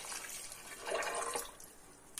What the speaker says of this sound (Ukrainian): Беремо воду. Вода переварена, холодна.